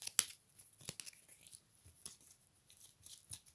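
A card is drawn from a deck, giving faint, crisp flicks and soft papery snaps in a few brief bursts in a quiet room.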